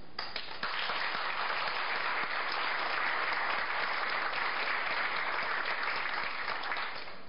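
Sustained applause from a forum audience at a public water crisis meeting, dense and steady throughout, with no talking.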